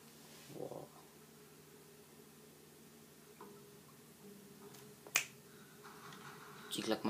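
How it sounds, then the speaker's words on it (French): A few sharp finger snaps in the Tomb Raider video game, quiet and isolated, with one crisp snap standing out amid faint background hiss and sparse clicks. "Petit claquement de doigts, ça rappelle le début du jeu"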